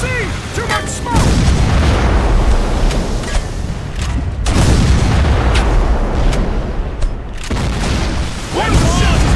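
Artillery cannons fire repeatedly in a Civil War video game, each deep, loud boom rolling into the next as a sustained barrage. Shouted voices are heard between the shots.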